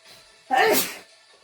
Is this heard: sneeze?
yes